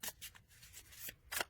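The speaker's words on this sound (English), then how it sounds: "Shuffle them." Tarot cards being shuffled by hand, a few soft papery riffles and flicks in short bursts, close and quiet, with no talking.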